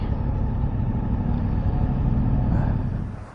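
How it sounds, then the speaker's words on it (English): A septic tanker truck passes on the Great Central Road, a heavy, steady engine rumble with broad road roar that holds for about three seconds before fading away. "A poo truck, how good's that?"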